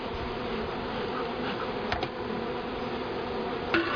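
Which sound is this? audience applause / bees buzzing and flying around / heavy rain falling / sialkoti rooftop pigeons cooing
bees buzzing and flying around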